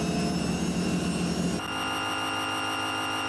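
Turbocharged truck engine in American Truck Simulator, a loud steady mechanical drone with whistling tones that drops abruptly to a quieter, thinner hum partway through.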